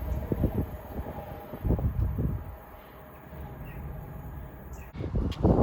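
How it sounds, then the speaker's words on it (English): A Class 70 rail freight train passing at Bridgend, a low rumbling roll of wagons that fades and then swells again, heard from trackside with some wind. "70805 is the slightly early 1513 class rail freight service from Landor Junction to Hinksey"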